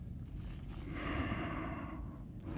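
A slow, breathy exhale during a yoga session on a sunset beach, a soft airy rush that swells and fades over about a second, close and fairly quiet against steady background noise.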